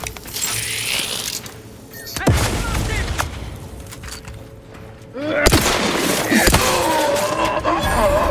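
Grenade explosion in Outer Worlds 2, one of several sharp blasts and impacts amid gunfire, with metallic clatter and debris ringing out between the bangs.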